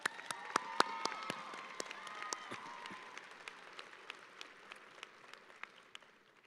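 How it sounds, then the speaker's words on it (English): An audience at a university commencement applauds in steady scattered clapping, fairly distant and soft, with a few brief whistles early on and the clapping thinning as it goes. "Let's give these guys a round of applause."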